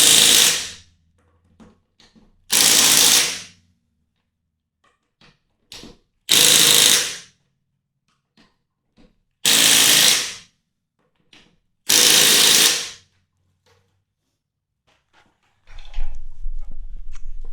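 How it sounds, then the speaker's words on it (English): A Masterforce 1/2-inch impact wrench set to high tightens lug nuts on a wheel, sounding as five loud, close hammering bursts of about a second each, separated by quiet gaps. "I switched it over to high, and I'm just going to go back once over on all lug nuts"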